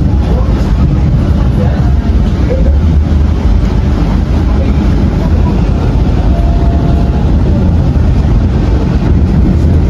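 Argo Sindo express train running fast alongside the Walahar commuter train from Purwakarta near Cikampek station, a loud steady rumble of wheels and rushing air heard from on board throughout.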